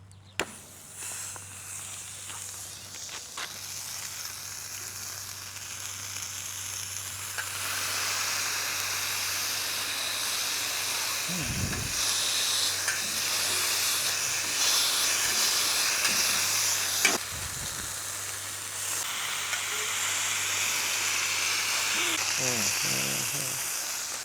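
Burger patties hit a hot seasoned griddle and sizzle, a steady hiss that swells and holds, with scraping spatula clatters and brief talk in between.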